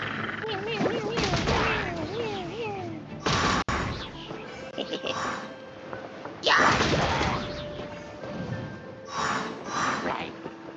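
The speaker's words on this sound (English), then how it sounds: "Oh, I actually have bombs now." Bombs burst in Genshin Impact, several sharp explosive thumps spaced a few seconds apart with crackling debris, while a voice talks excitedly between them.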